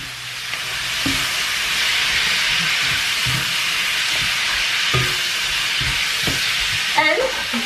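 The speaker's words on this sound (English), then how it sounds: "at this stage I am now going to add back in my pork, my browned off pork" Browned pork and its juices go back into a Hokkien noodle stir fry, setting off a loud, continuous sizzle with repeated thuds and scrapes of stirring and a brief clatter near the end.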